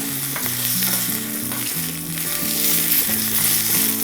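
Curry leaves and green chillies sizzling in hot tempering oil, a loud, continuous close-up hiss and crackle that runs under a steady tonal melody for the whole stretch.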